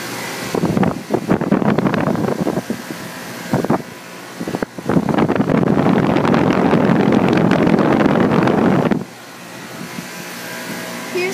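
A Guardian 4-ton central air conditioner from 2006 runs with a loud, steady mechanical roar of fan and compressor. The noise dips briefly near the middle and then drops to a quieter hum for the last few seconds.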